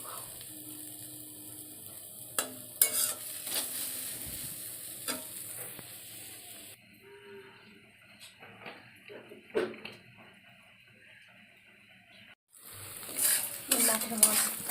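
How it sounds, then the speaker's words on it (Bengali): Large taro fries in a pan, a soft sizzle under repeated stirring scrapes and utensil clinks against the pan, quieter in the middle and louder again near the end. "বড় কচু, সেই কচু ভাজা হবে"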